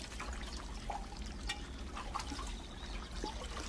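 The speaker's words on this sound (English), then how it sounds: "A continuous stream of spring water is piped right into a basin, so fresh water is always available." Spring water piped in a continuous stream into a basin of a Japanese water garden pool with ornamental carp, a steady soft trickling and splashing held at an even level throughout.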